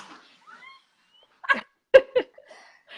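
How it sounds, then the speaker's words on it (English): A few sharp dog barks ring out close by at the front door, one then a quick pair, with faint indoor noise and quiet pauses between. "that's my dog and the door."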